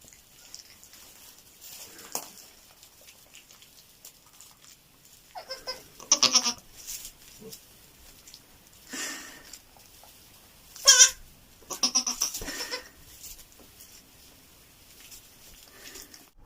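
Goats bleating on a goat farm in several separate calls spread through the stretch, some louder and closer, others softer, with quiet gaps and light rustling between them.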